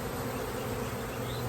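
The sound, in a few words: honey bees buzzing around a hive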